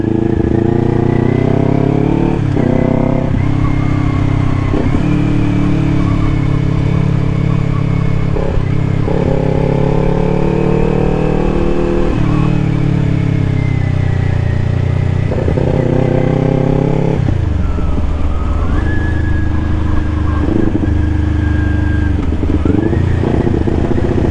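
Kawasaki Ninja 400 motorcycle engine while riding, loud and close, revving up through gears in repeated rising pulls with brief drops at shifts, plus wind and road noise.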